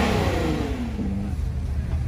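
A lime green Lamborghini Aventador SV revs hard at a Monterey car week gathering, giving a short, loud rising roar that falls away within about two seconds.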